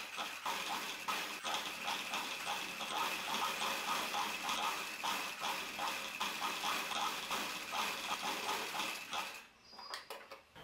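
A sewing machine stitches the armhole, shoulder and neckline of a cowl-neck top, running in a steady rapid whir with regular mechanical pulsing before stopping near the end.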